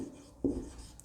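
A single short scratch of chalk or marker on a classroom board during a physics lesson, a brief faint stroke in an otherwise quiet room.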